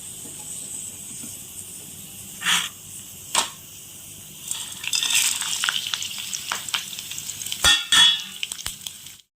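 Ingredients for tamarind rice are tempered in hot oil, with a quiet background sizzle broken by scattered louder crackling bursts and pan clatter up close.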